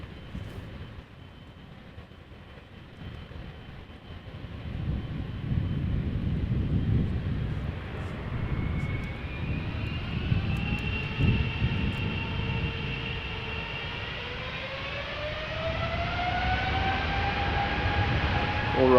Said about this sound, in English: 777-300 ER, KLM flight 621, destination Atlanta, Georgia.